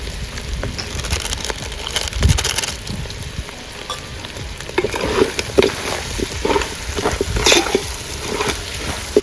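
Country chicken frying in a pan with pepper powder added, a steady crackle and sizzle with scraping stir strokes and occasional clinks, close and moderately loud, no talk over it.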